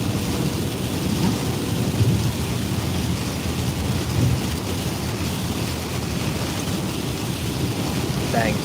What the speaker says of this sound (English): I hear all this rain.